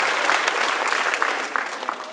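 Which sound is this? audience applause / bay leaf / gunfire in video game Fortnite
audience applause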